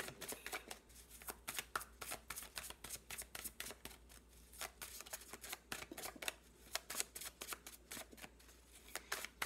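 Tarot cards shuffled for a reading, a long series of crisp riffling flutters and soft slaps repeating at a brisk, uneven pace, close and fairly quiet, with no voices.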